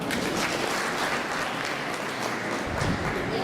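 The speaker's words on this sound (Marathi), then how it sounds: "टाळ्या वाजवा." Steady, loud applause from a gathered crowd at a village workshop on declining sex ratios, a dense continuous wash of many hands clapping without a break.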